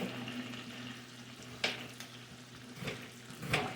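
Onions frying for German potato salad over moderate heat, a soft steady sizzle throughout with a few louder scraping stirs of the pan.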